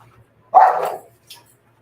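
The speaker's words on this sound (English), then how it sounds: "Sorry, guys. Freaking dog." One dog gives a single loud bark up close in a quiet indoor room during a live stream, followed moments later by a brief, softer yip.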